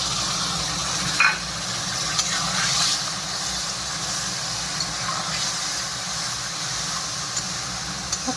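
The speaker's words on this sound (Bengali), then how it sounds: "এখন দিয়ে দেবো এই যে জিরে, মরিচ, আদা, রসুন বাটা" A paste of cumin, chili, ginger and garlic sautés and is stirred in a pan for chicken curry, producing a continuous soft, close sizzle and hiss with a few scraping clinks.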